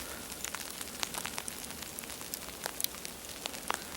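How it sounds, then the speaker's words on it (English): Sleet pellets falling through trees during a North Carolina snowstorm, a steady faint hiss broken by many small scattered ticks and patters, alone without talk. "Little pellets of sleet."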